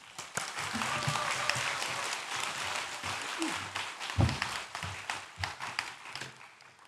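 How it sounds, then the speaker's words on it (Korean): A church congregation at a Sunday worship service in Daegu applauds to welcome the pastor to the front, with steady broad clapping that fades and leaves scattered claps and some voices. "장성도 목사님 나오실 때 큰 박수로 환영해 주시오"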